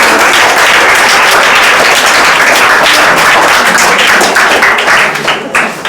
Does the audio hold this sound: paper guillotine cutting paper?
no